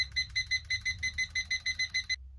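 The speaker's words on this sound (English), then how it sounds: "That's how you do an alarm." A digital alarm clock beeps after its time is set, a rapid run of about a dozen short, evenly spaced high-pitched beeps that stop abruptly, heard close and clear.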